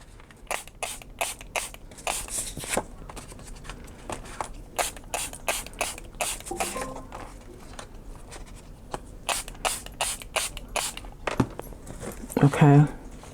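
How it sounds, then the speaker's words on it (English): Water spritzed from a spray bottle onto kraft cardstock in rapid bursts of short, crisp hisses, clustered and repeated throughout, with brief vocal sounds in between. "let's spray them all"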